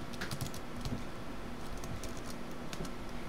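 Quick bursts of clicking keystrokes on a computer keyboard as code is typed for an Arduino program, close and fairly quiet, with short pauses between runs of keys.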